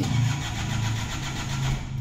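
A 1992 Isuzu Panther's engine runs just after starting, warming up with a steady, close, loud rumbling idle and slight rhythmic pulsing throughout.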